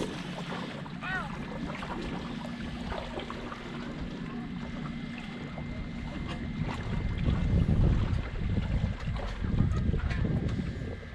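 Wind rushes over a sailboat on open water, a constant broad hiss with gusts buffeting the microphone and swelling louder toward the end, while faint voices talk underneath.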